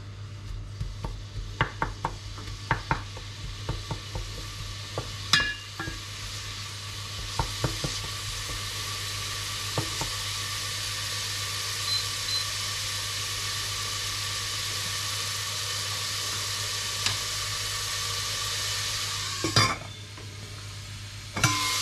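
Onion fries in olive oil for Portuguese duck rice, a faint, steady sizzle broken by sharp clinks and scrapes of a utensil stirring against the pan.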